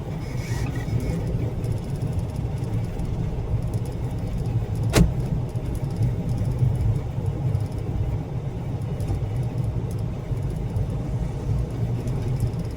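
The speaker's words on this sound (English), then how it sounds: "the vehicle is going to perform autonomous dodging endlessly" An autonomous vehicle, with no safety driver aboard, drives while dodging traffic obstacles. It gives a steady, close road and engine rumble with a single sharp tick partway through.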